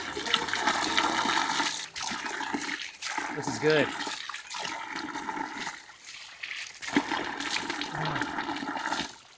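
Water running from a spring tap beside a well-maintained hiking trail on Matcha Mountain in Taiwan, a steady close splashing flow with a brief voice speaking over it.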